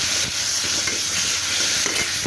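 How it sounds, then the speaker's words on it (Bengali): Hilsa fish fries in a pan, a loud, steady, close sizzle with faint scattered pops and crackles running throughout, no voices. "এখন ভেজে নিচ্ছি ইলিশটা একটু সুন্দর করে ভেজে নেবো"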